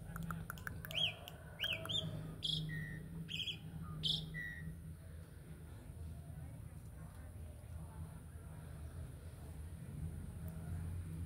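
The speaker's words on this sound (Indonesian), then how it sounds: "Nah, ada burung." Birds chirp and call in a garden of ornamental plants at a house, a few sharp whistled notes early on, then fading under a steady low hum and quiet background.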